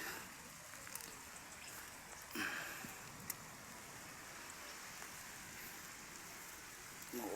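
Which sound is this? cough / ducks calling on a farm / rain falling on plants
rain falling on plants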